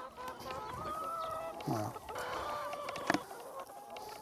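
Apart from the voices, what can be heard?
hens clucking on a chicken farm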